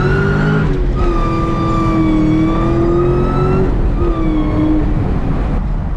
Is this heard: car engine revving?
yes